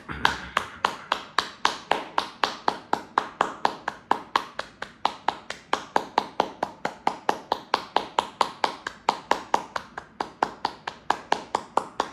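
Hands clap in a steady, even rhythm during a breathing exercise, dozens of crisp, close, fairly loud claps continuing one after another without pause.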